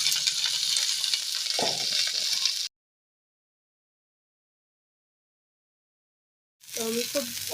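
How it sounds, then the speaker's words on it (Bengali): Finely chopped cauliflower fries in a kadai with a steady, dense sizzle and a brief stirring knock. The sizzle stops abruptly into silence, then resumes with someone talking over it. "সেই ফুলকপিগুলো ডাইরেক্ট দিয়ে দেবো কড়াইয়ের মধ্যে"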